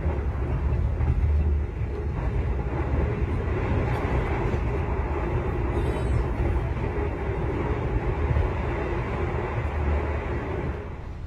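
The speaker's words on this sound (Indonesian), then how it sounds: "perjalanan kali ini naik kereta api Jakatingkir" Steady rumble of the Jakatingkir passenger train running, heard from inside as a continuous low, broadband drone of wheels and carriage noise that holds evenly throughout without pauses or voices.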